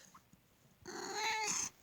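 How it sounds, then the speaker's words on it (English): A cat gives a single close, drawn-out meow lasting under a second, rising then falling, after a brief faint chirp, with quiet surroundings and no talking. "The cat's back."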